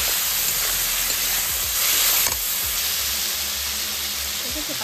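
Rupchanda fish in masala, with a little water added, sizzling and hissing steadily in a pan as it is stirred, a continuous bright frying noise with a brief louder surge midway.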